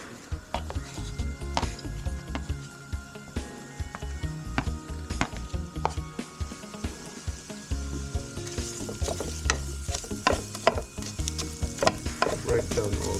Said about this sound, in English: we're gonna add our red onions, garlic and ginger, and we're gonna stir fry that for good 2 to 3 minutes